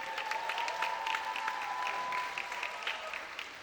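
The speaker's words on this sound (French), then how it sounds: "S'il vous plaît, applaudissez encore Fanitra." An indoor talent-show audience applauds a performer with steady, fairly faint clapping that lasts a few seconds, with no speech over it.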